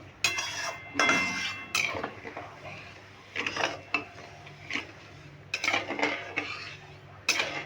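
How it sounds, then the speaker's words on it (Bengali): A spoon stirs sugar in a metal pot to melt it for raw mango murabba, producing irregular close scraping and clinking strokes with brief pauses between bursts. "এইভাবে নেড়ে চিনিটাকে গলিয়ে নেব"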